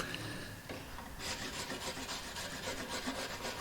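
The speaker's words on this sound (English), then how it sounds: "So just using my rasp or surf form, I'm just going to shave a bit off the top of the mitre there." A rasp or surform shaves wood off the top of a mitre joint, a close, steady scraping rasp in repeated strokes with no talk.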